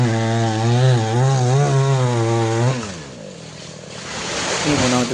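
Loud, close chainsaw cutting a coconut palm trunk, the engine holding a steady wavering rev before falling off to a rough idle and then climbing again near the end.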